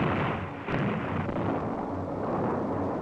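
Dynamite blasts in a canyon rock wall during Hoover Dam construction, heard as a loud, dense roaring rumble with a sharp jolt early on, then sustained thundering that fills the whole stretch.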